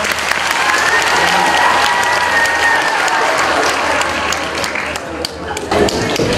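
An audience at a humor festival applauds loudly and close, with sustained dense clapping and crowd noise, and voices heard briefly among the claps.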